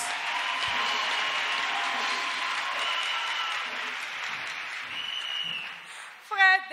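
Congregation applauding during a church testimony service, a steady sustained clapping wash from many hands, moderately loud, fading toward the end as a voice briefly comes in.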